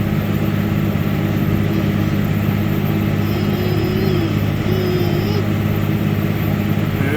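Heavy machine engine running flat out at full revs under full load while moving rock in winter, a steady loud droning roar with a faint high whine in the middle, no words spoken.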